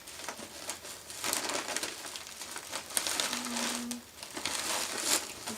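Plastic sheeting crinkling and bunching as it is handled and taped into a DIY Halloween body bag prop, a close, irregular rustle with a brief tape-pull squeak midway and no talk.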